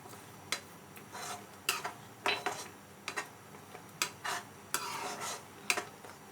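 Pineapple chutney with sugar stirred in a pan, a spoon scraping and clinking against the metal in irregular bursts of short, fairly close scrapes over a quiet background.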